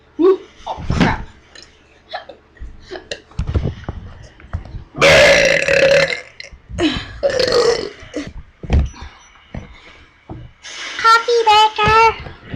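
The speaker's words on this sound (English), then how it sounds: "Burping." Loud, drawn-out burps erupt several times, with voices chattering between them.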